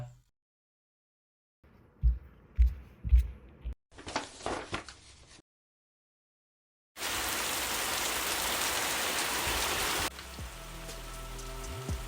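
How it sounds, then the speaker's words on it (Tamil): Heavy rain pours steadily in Kerala as a dense, loud hiss after a few scattered knocks and rustles, then continues somewhat softer with a low rumble underneath. "மழை வேறு பயங்கரமாக இருக்குது."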